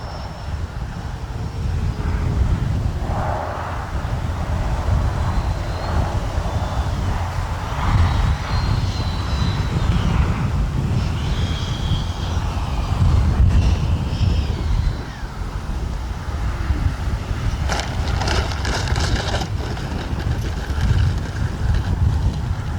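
A Freewing A-6 Intruder RC jet flies past in gusty crosswind, its steady electric-ducted-fan whine carrying over constant wind buffeting on the microphone for the whole stretch, with no talking.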